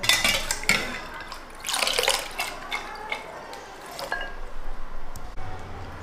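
Soaked green beans are scooped out and left to drain, with close, wet dripping and trickling water, soft squishes and a few light knocks against a bowl.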